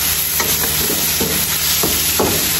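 Squid stir-fried in a pan for a spicy Indonesian dish, a steady sizzle with a few scraping stirs of the spatula at a slow, uneven rhythm, close and without talk.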